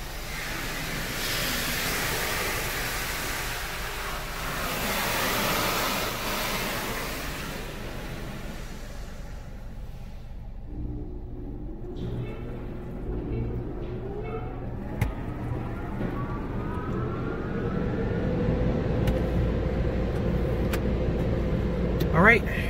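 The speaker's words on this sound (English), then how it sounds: "we're driving out the dryers" Car wash dryers on a Belanger Kondor KL2 roar loudly at first, then fade and thin out as the car drives clear of them, leaving a lower engine and road rumble with someone talking.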